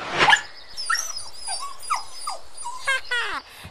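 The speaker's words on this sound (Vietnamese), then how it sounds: "lão ta kiếm đâu ra con chó đánh hơi được vàng thế kia?" A cartoon dog that sniffs out gold gives a series of short whimpers, yips and whines, loud and close, with a sharp bark-like burst at the start and rising squeaky cries near the end.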